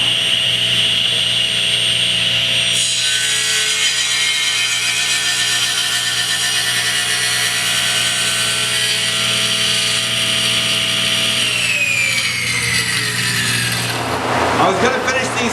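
A bandsaw cuts through live edge walnut with a loud, sustained tonal whine and rasping bite into the wood. Near the end the motor is switched off and the pitch winds down.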